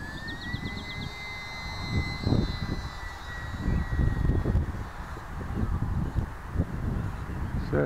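Small E-flite UMX Yak model airplane in flight during its maiden flight, its thin electric whine steady and moderately close throughout, with wind and outdoor noise underneath.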